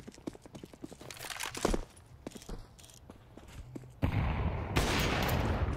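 Rapid gunshots crack in a competitive esports shooter match, a quick volley of sharp reports amid footsteps and game ambience, followed by a louder, denser burst of firing.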